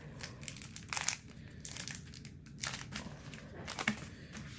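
A 2015-16 Panini Excalibur NBA trading card pack wrapper being torn and crinkled open, irregular crackling foil bursts close up, with no talk over it.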